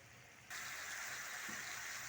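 Water poured into a pot of potato and pea curry, a steady close gushing splash that starts abruptly and runs evenly to the end, with no talk.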